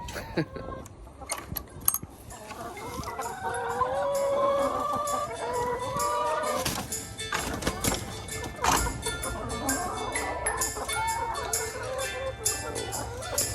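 Backyard chickens clucking and squawking as they are fed treats in a wood-chip run, a busy, continuous flock chatter with occasional crows and sharp handling noises throughout.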